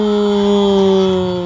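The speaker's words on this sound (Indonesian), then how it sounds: "namanya starter, teman-teman. Di starter dulu truknya." Electronic engine-starter sound from a toy tanker truck: a loud, steady buzzing drone with a fixed pitch, heard alone for a moment.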